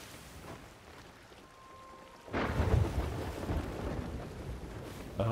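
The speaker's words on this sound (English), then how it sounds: "I'm having to sail through a storm, I think, to get to you." A sudden crash of thunder breaks over a thunderstorm at sea in Sea of Thieves, followed by loud, continuous rain and wind after a quieter opening stretch, with no voices.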